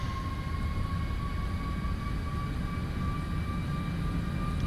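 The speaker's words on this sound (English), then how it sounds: "Power is coming up, takeoff." Boeing 737 MAX jet engines in a Prepar3D flight simulation spool up for a Ryanair takeoff roll, giving a steady low rumble with a thin whine held above it, even and unbroken.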